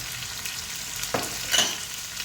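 Garlic, shallots, ginger and curry leaves frying in a pan and being stirred, a steady quiet sizzle with a few louder scraping stirs partway through, no talking.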